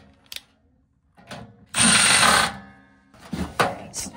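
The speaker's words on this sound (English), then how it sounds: "we're gonna go ahead and put our ground wire in. I'll just go ahead and use this screw right here." A screw is driven in to fix a furnace ground wire, with a few short clicks followed by a close, loud whirring burst from a driver, then more brief mechanical clicks.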